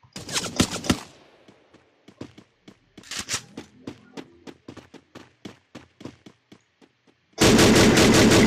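Gunfire in the Free Fire video game, played on PC: sharp bursts of shots at the start, a long run of single evenly spaced reports over the middle, then a dense loud burst of rapid fire at the end.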